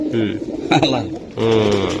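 A young male Chuital pigeon coos up close in two rolling, throaty phrases separated by a brief pause.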